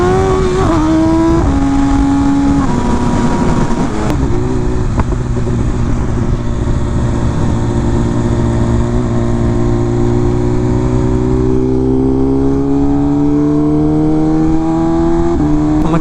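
A BMW M1000RR motorcycle engine drones steadily while riding in sixth gear, its pitch dipping and then slowly climbing as revs build, loud and continuous with no talk.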